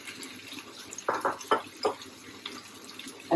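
Water is poured into a pan of katla fish curry with eggplant and mashkalai lentil bori, coming as a few short splashing bursts at moderate level.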